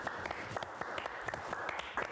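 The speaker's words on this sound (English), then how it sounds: "Round of applause, y'all." A live audience breaks into a round of applause after a comedy callback, with steady dense clapping and occasional louder bursts throughout, no talking over it.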